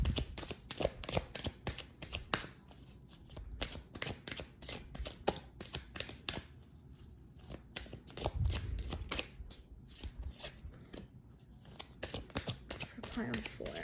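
Tarot cards being shuffled in the hands, a long run of quick papery riffles and flicks coming in bursts with brief pauses, close and soft, with a voice talking in between.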